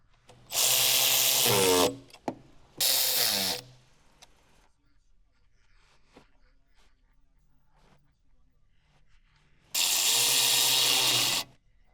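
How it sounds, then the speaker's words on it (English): Power tool running on turbocharger inlet pipe bolts with 8mm and 7mm sockets on a 2013-2020 Ford Fusion, three loud whirring bursts of about one to two seconds, two close together early and one near the end, with quiet handling noises between. "Reinstall the turbocharger inlet pipe and secure it using an 8 and 7mm sockets"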